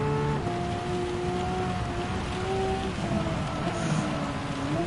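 Rain in a Gran Turismo 7 race, a Porsche Cup car on the Nürburgring, with a steady rain hiss mixed with tonal engine drone and shifting pitch, continuous and fairly loud.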